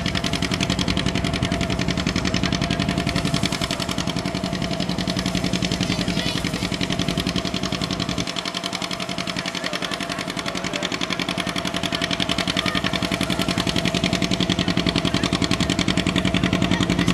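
A tractor engine labors continuously at a tractor pull during a steam and gas engine show, a loud, steady rumbling roar with a brief dip in the low end midway before it resumes its heavy, slow pull.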